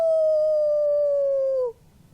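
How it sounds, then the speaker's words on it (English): A werewolf howl sound effect from a spooky haunted-house song: one loud, sustained, slightly falling howl that holds for about a second and a half, then cuts off sharply, leaving near silence. "Past the graveyard, hear the howl of werewolf loggers on the prowl."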